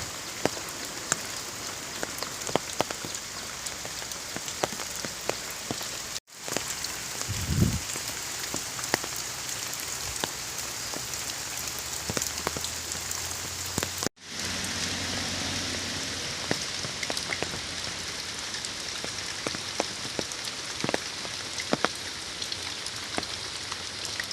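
Steady heavy rain pours down continuously in the Konkan, flooding fields, a dense hiss of drops drumming on surfaces, with a couple of brief dropouts and no voices.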